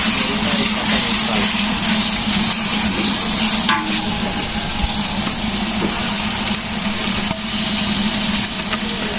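Spices fry in a large pot of chickpeas cooked for 200 people, a steady close sizzle over a low constant hum, with a few faint clinks of stirring.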